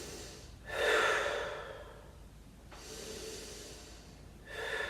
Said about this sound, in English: and breathe here.